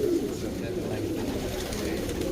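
Pigeons cooing inside a loft, soft low murmuring calls layered under people talking in the foreground, steady and close with some background noise.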